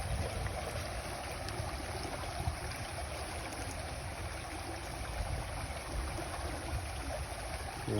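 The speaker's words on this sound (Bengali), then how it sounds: "জলটা দেখো কীরকম নামিয়ে যায়," Fast, heavy floodwater rushing past, a steady broadband roar that holds constant throughout, moderately close and with no talk over it.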